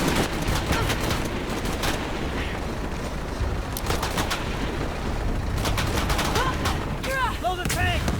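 Gunfire in the Shadow of the Tomb Raider video game: dense, continuous volleys of shots and bursts fill the whole stretch at steady loudness, with game sound effects layered throughout.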